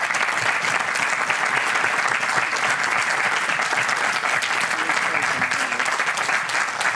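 An audience at an annual meeting and medal ceremony gives staff members a sustained round of applause, dense and steady clapping filling the hall throughout.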